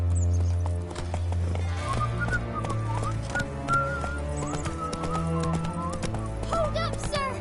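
In the video game The Witcher 3, the horse Roach gallops with rhythmic clip-clopping hooves under a musical score with low drones and melodic lines, while a voice speaks over the hoofbeats.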